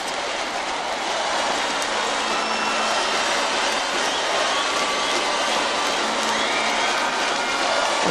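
A gymnastics championship arena crowd at the rhythmic gymnastics world finals roars steadily as it waits for Brazil's group, a dense sustained wash of cheering and applause with no pauses.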